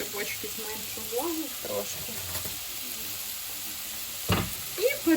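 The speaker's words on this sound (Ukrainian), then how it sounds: "Ось і перемішую так зараз" Shawarma filling with soy sauce is stirred in a hot pan, giving a steady close sizzle with scraping and clinking stir strokes and a brief louder clatter near the end, alongside faint talk.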